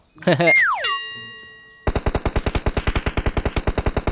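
Automatic gunfire in the mobile battle royale game PUBG Mobile, a rapid, loud, steady burst of shots that follows a short electronic chime and a falling whine.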